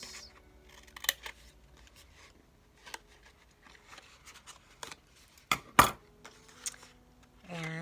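Scissors cut through paper while shaping a handmade box for individual soaps, with a few crisp snips scattered across the stretch and two louder, sharper cuts near the end, close and otherwise quiet.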